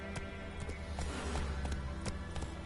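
Roach, the horse in The Witcher 3 video game, gallops with steady repeated hoof clip-clops over a continuous game soundscape, moderately loud and close.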